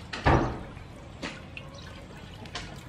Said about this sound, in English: Now I add some water.